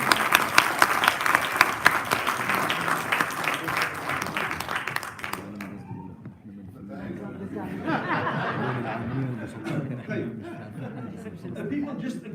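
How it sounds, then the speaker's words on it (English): An audience applauds at a conference on Palestine, dense clapping that thins after about five seconds into scattered claps, murmuring and chatter. "So, a large round of applause for all of them"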